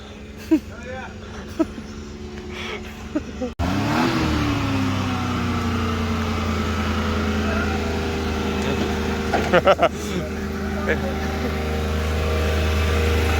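A kei truck engine starts after a few knocks and thumps, then idles steadily close by with a low, even drone and a few clanks and bumps over it.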